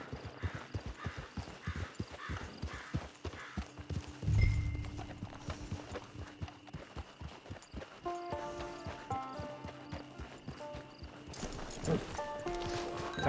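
A horse's hooves clip-clop at a walking pace in a Western video game, a steady rhythm of close, distinct knocks beside a camp, with brief game music tones and a short snort.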